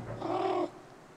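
A single drawn-out cat meow from the video game Stray, clear and fairly loud for under a second against a quiet game background.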